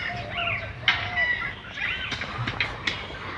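Red junglefowl clucking nearby in a mini zoo enclosure at Rasik Beel bird sanctuary, short repeated calls scattered through the clip, with light background rustling.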